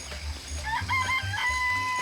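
Chickens cluck and crow in a chicken coop in a video game, with several close, overlapping calls over a low background hum.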